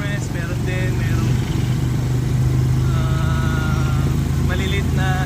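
Motorcycles and tricycles pass along a road near the Bangon River bridge in the Philippines, a steady engine drone with low idling rumble throughout and a brief rev, while faint voices and a few chirpy tones sit in the background.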